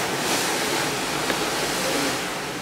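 Ocean waves heard from a cruise ship patio on a Bahamas voyage, a broad continuous rushing wash with some wind buffeting, steady and fairly loud, with no voices.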